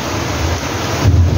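Constant rain hisses over a deep rumble of thunder that swells louder near the end.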